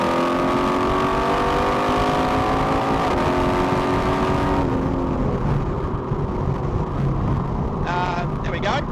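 A car on a road accelerates hard to overtake, its engine note climbing steadily and loud with strong wind and road noise, then easing off as the pass completes.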